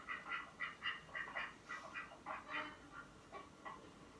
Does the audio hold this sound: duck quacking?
yes